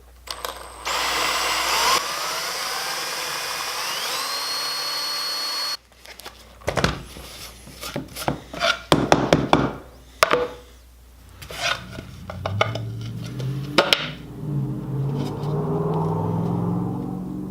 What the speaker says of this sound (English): Not pushing too hard, we need to let the drill do the work.